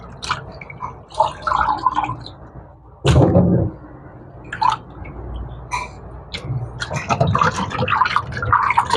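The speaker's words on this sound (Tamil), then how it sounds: "இப்போ மீன் எல்லாத்தையும் வெட்டியாச்சு, கழுவி எடுப்போம்." Freshly cut fish are washed in water, with intermittent splashing, sloshing and dripping close by in irregular bursts and short quiet gaps between handfuls.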